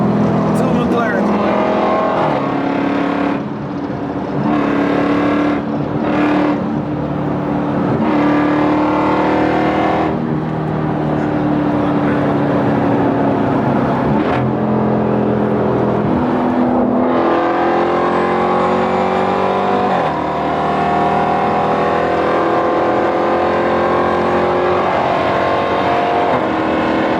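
McLaren supercars and other performance cars, including an E46 M3, accelerate and pass nearby, with engine notes rising and sweeping by in several loud surges while people talk over the passing traffic.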